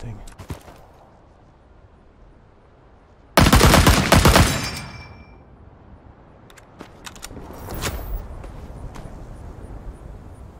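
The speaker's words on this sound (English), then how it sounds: "I'm gonna start firing." Gunfire in Rising Storm 2: Vietnam during an attack on a church: a sudden loud close burst of automatic fire, then scattered quieter distant shots and clatter, with a voice speaking at the start.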